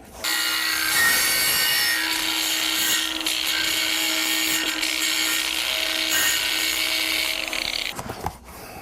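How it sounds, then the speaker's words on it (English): A high-speed grinder works steadily across painted wood veneer, a loud continuous whine and abrasive rasp close by that holds for several seconds before cutting off near the end. "if you do use a high-speed grinder on that, be very, very careful when you go into these spots"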